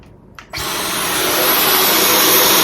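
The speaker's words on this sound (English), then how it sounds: "and then I'll vacuum my floor" A Dyson cordless vacuum cleaner switches on after a brief quiet moment and keeps up a loud, steady, high-pitched whine as it runs over a floor at close range.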